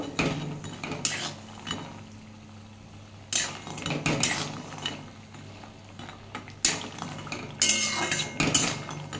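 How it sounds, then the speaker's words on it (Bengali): Bori lentil dumplings fry in oil and are stirred in a pan, with irregular clinks and scrapes of a utensil against metal over a low background hum, close and without speech. "আমার বড়িটা ভাজা হয়ে গেছে লাল লাল করে। আর একটু ভেজে নেব।"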